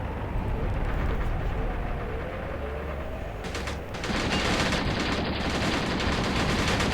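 Machine gun fire in the Graviteam Tactics war game, a dense continuous roar of rapid shots close and loud, with heavier distant battle rumble filling in under it throughout.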